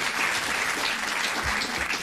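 Studio audience at a Dutch 1998 election television interview breaks into loud, sustained applause, a dense steady wash of clapping close up with no voices over it.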